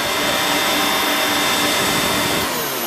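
A Riccar Brilliance upright vacuum cleaner runs steadily at full power with a loud, constant whirring whine, heard alone and up close.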